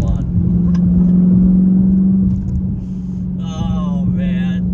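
A Dodge Challenger SRT8 engine drones low and heavy, its pitch holding steady then dipping as if between gears, with speech audible over the rumble inside the cabin.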